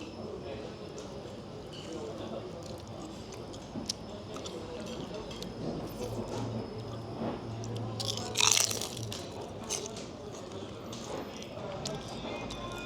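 Tunisian brick pastry with egg inside being bitten and chewed at a restaurant table, giving soft close crunches amid steady dining-room background noise, with one sharper crackly bite standing out near the middle.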